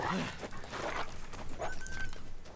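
A dog or wolf snarls and whimpers in The Long Dark video game, with short growling yelps in bursts while someone shouts over it.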